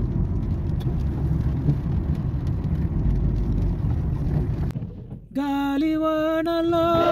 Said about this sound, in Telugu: హైవే మీద డ్రైవింగ్ అలవాటు అయిపోయింది కాబట్టి నడుపుతున్నాను ధైర్యంగాను